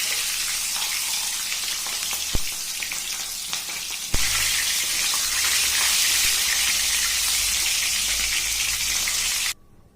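Fish head rubbed with turmeric, chili and salt sizzles in hot oil in a wok, a loud continuous hiss that flares up sharply after a clank and then cuts off abruptly near the end.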